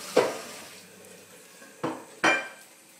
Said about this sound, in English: I'm just going to do the dishes while this happens.